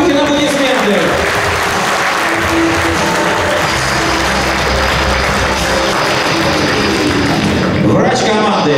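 Fans applauding team staff at a meet-and-greet, a loud, steady wash of crowd clapping filling a large hall, with speech over it near the end.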